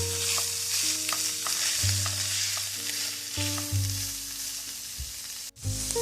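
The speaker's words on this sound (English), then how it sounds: "You can go ahead and mix it until it's well combined." Seasoning is stirred into drained ground beef in a pan, with soft scraping and a faint sizzle sitting under prominent background music.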